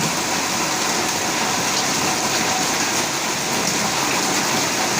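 Steady rain falls heavily on surfaces, a dense, even hiss of drops close by and continuous throughout, with no voices.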